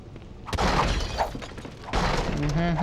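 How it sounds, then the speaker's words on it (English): Wooden barrels being smashed in the video game Baldur's Gate: Dark Alliance, several loud crashing breaks in quick succession, with someone talking over them. "Smashing barrels."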